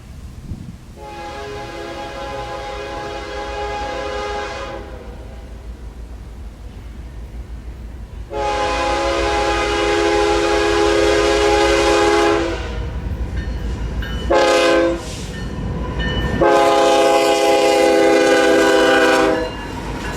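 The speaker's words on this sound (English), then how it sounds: "A westbound BNSF train eventually came into town limits a few hours later." A westbound BNSF freight train, led by a locomotive hauling empty coal cars on the Cherokee Subdivision, passes through town; its horn blares in several long, loud blasts with short gaps, over a steady rumble of rolling cars.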